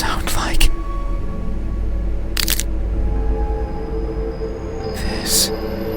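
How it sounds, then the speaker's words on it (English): Sharp, brittle cracks of face fragments breaking off in a horror video game: three separate crisp snaps spaced a couple of seconds apart over a low, steady droning background. "making a cracking sound as they go."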